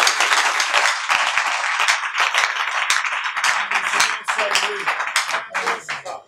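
A church congregation applauds loudly, dense continuous clapping filling the space throughout, with voices and some music rising within the crowd noise.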